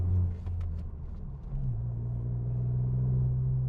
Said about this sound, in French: Là, je vais tester une petite accélération.